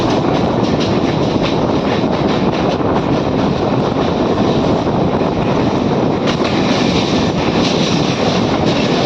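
A Mumbai local train rolls along its rails in a continuous loud rumble with rattling and clickety-clack, heard from on board with wind noise and no voices.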